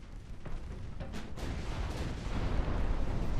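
A torpedo striking a warship in the naval game Ultimate Admiral: Dreadnoughts: rumbling, booming explosion sounds that build into a heavy, sustained roar toward the end.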